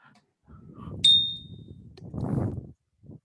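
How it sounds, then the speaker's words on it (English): During a judges' training workshop, a small bell gives a single bright ding that rings briefly and fades, while a voice talks quietly before and after it. "I love the bell."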